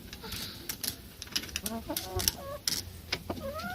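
Chickens in a small coop with an automatic feeder, scattered clucks and short rising calls close by, mixed with light clicks and a faint voice in the background.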